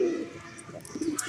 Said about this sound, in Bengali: ঢাকাইয়া গিরিবাজ এবং রেসারের কি ডাক